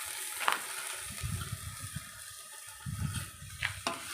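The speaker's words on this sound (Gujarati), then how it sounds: "પાણી નાખી." Water pours into a cooking pot of dabeli masala with oil, tomato and coriander, a steady splashing wash with soft bubbling bursts, close and moderately loud, with no talk.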